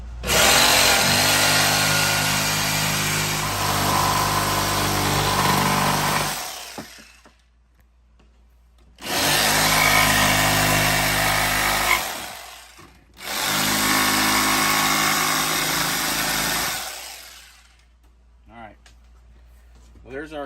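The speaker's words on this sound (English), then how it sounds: "I'm going to take my little jigsaw and we'll cut that out." Small jigsaw cutting an opening in insulation board, three loud sustained buzzing runs broken by brief pauses, close up, with a person talking briefly near the end.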